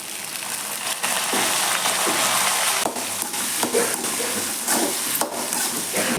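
Ginger and garlic frying with dried chillies in hot oil for mint pickle, a steady loud sizzle under repeated stirring scrapes in the pan.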